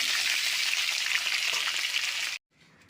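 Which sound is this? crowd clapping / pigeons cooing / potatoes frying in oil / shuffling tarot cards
potatoes frying in oil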